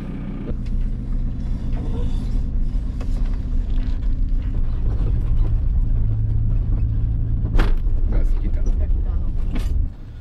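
Car with a faulty gearbox driving through the Brazilian rainforest, its engine rumbling steadily and loudly, with a few sharp clunks and rattles near the end, while people talk over the noise.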